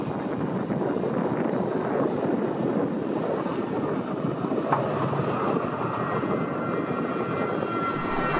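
A tram on the new Lichtwiesenbahn line in Darmstadt runs past university buildings with a steady rolling rumble and hum, fairly close and continuous, with some wind noise on the microphone.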